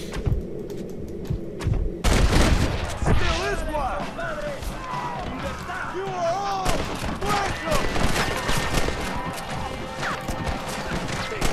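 Rapid bursts of gunfire in Red Dead Redemption with heavy impacts and crashes, loud and close, with a voice talking over the chaos.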